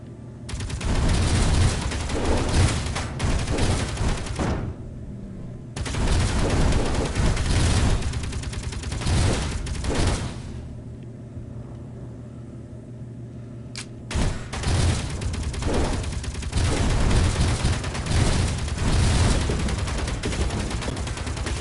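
Gatling turret fire in the Helios Underground Survival video game: long, loud sustained bursts of rapid machine-gun shots, broken by short pauses, close and continuous with no talk over them.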